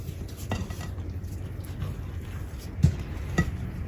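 A spoon mixes applesauce, pumpkin and cake mix in a bowl, giving soft, irregular scraping and thudding strokes close by with a few sharper knocks, and no one speaks.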